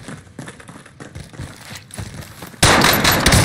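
Automatic weapon fire in a shooter video game: scattered distant shots and clatter, then a loud sustained burst of rapid gunfire erupting close by for the final second.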